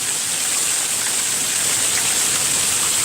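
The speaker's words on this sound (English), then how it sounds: "Look at this rain pick up." Heavy rain pouring during a severe thunderstorm, a loud, steady hiss of dense rainfall close by, continuous and unbroken with no voices.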